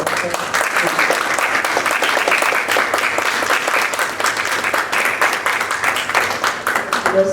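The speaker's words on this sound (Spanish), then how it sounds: "Un aplauso por favor." Steady, dense audience applause at a cultural event on Peruvian myths and legends, many hands clapping continuously and fairly loud for the whole stretch without a break.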